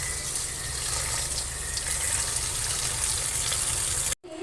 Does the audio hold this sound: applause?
no